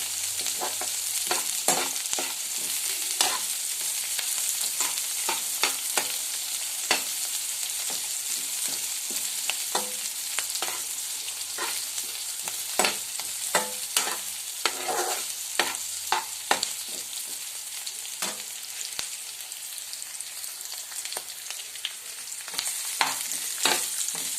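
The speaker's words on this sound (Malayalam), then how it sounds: "വെളുത്തുള്ളി ഇഞ്ചി ചതച്ച് വെച്ചേക്കുന്നത് ചേർത്ത് കൊടുക്കാം വീണ്ടും ഒന്നുകൂടെ ഇളക്കി കൊടുക്കാം" Chicken curry masala with crushed garlic and ginger frying in a pan, a steady loud sizzle broken by frequent scraping spoon strokes and clicks against the vessel, continuous and close, no voices.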